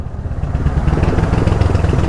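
A motorcycle engine chugs loudly and close by in a rhythmic idle-like pulse near a creek overflowing from flooding, with no voices over it.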